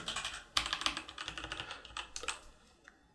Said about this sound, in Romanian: Tastele în sine se aud ușor mai goale, un ping înăuntru, un zgomot.